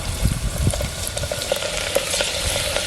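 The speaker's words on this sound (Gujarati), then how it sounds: "તેલ તો ગરમ થઈ ગયું છે આપણે આ લસણના કટકા કરી નાખી દઈએ" Garlic pieces frying in hot oil with a steady close sizzle and crackle, small pops and light stirring clinks throughout.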